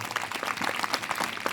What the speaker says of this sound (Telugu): మనం అంతా చప్పట్లతో సంతోషంగా,